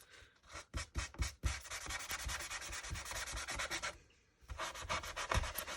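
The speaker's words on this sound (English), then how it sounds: "And possibly, I need my sanding block." Sanding block rubbed by hand over a surface to take off shine, giving close, steady scratchy strokes in a quick rhythm with a brief pause near the end before resuming.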